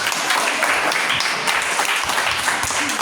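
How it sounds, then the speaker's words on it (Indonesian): Applause for all the student groups in an elementary classroom lesson: dense, steady clapping from a whole class, fairly close and continuous throughout, with no talk over it. "Tepuk tangan dulu untuk semua kelompok"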